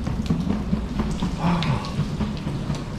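Heavy rain pouring down in Mallorca, a dense, steady hiss of water close by with constant spatter and no pauses.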